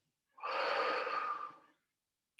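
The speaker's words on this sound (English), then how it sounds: "So you breathe in, breathe out, breathe in," A single slow, airy breath from a child, soft and close, rising and fading over about a second, with a faint click after.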